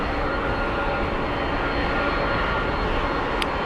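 A jet airliner on final approach into Heathrow gives a steady, loud, broadband engine roar that holds evenly throughout, with no talk.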